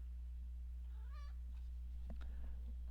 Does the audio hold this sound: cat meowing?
yes